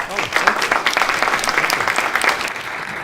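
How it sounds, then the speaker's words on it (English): A workshop audience claps together in a dense, steady round of applause that holds at full strength for a few seconds, close and lively, with no voices standing out. "Since you applauded, you can have food now."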